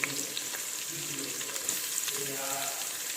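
Shallots and onions sizzling in hot oil for tomato rice, a continuous bright crackle with small pops and faint stirring, close and fairly loud throughout.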